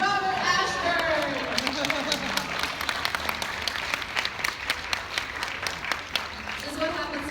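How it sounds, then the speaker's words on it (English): Convention audience at a Halloween event clapping for the Ghostbusters running crew, a continuous crisp round of applause with talking and cheering mixed in throughout. "One round of applause for Josh, Katie, and Lewis, our Ghostbusters running crew professional, Robert Ashburn."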